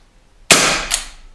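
A Crosman Benjamin Wildfire semi-automatic air rifle fires a single sharp crack that ends abruptly, followed by a second brief snap a moment later, loud against an otherwise quiet background.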